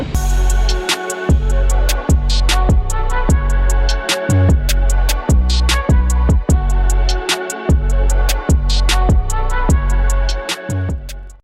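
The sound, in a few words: drilling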